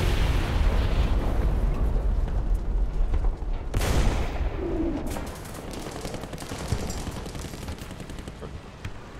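A tank cannon fires in War Thunder, one sharp loud blast that cuts through a rumbling engine and battlefield noise, followed by a fading tail.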